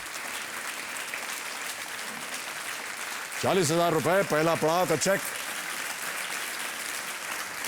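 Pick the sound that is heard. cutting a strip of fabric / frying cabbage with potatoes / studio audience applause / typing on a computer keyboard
studio audience applause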